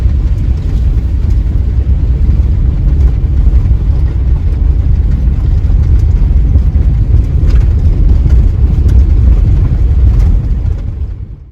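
Car driving on a bumpy hard-packed dirt road in Saguaro National Park, Arizona, a loud, continuous low rumble of tires and suspension jolting over the ground, steady throughout and fading at the end.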